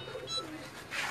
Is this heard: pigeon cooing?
yes